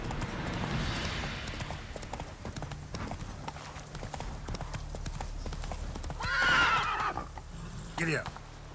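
A horse in the Witcher 3 video game trots with steady clip-clopping hooves, then gives a loud whinny near the end, while a person talks over the game audio.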